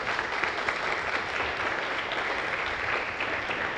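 Wedding reception guests give a steady, full round of applause for the day coordinator, a dense and even wash of clapping throughout.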